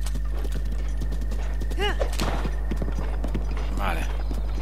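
Horse hooves clip-clop in a steady rhythm in The Legend of Zelda: Breath of the Wild, with a horse whinnying partway through while someone talks over the sound.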